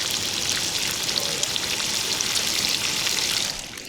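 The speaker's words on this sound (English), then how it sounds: "Here's some bacon ASMR." Bacon fries on a camp stove with a bright, close, continuous crackle of popping fat, like steady rain, that fades slightly at the very end, with no voices.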